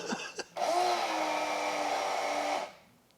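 A small electric door mirror motor on a VW Golf MK2 whirs steadily for about two seconds after a couple of clicks, then winds down and stops.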